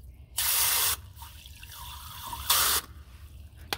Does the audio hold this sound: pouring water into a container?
yes